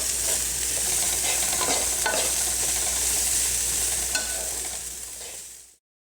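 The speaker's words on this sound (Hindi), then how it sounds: "अब हम इसमें ये बंद गोभी और फूल गोभी दोनों को ऐड कर लेंगे। थोड़ी देर फ्राई करेंगे।" Cabbage and cauliflower fry in a soup pot, giving a steady, loud hiss and crackle that runs on without a break. A few stirring scrapes come through, and there is no talking.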